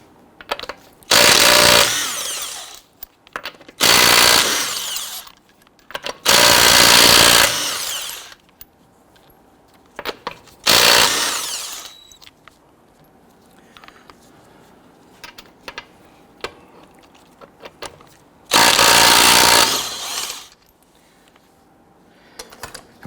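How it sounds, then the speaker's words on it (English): Lug nuts being loosened and removed from a 2006-2012 Toyota RAV4 wheel with a 21mm socket on a power tool, five loud whirring bursts of one to two seconds each, separated by quiet gaps with small clinks. "Using a 21mm socket, we're going to loosen and remove the lug nuts"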